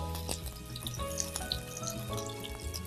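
Eggs and plantains frying in a pan give a steady, close sizzle and crackle with scattered pops throughout.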